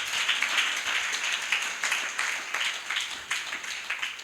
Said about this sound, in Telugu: చప్పట్లు కొట్టి దేవుని నామాన్ని కనపరుద్దాం.